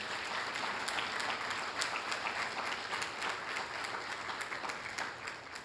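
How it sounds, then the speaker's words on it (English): At a police awards ceremony, a large audience applauds the banquet hall staff with a dense, continuous roar of clapping, heard at a distance and fairly soft throughout. "Round of applause."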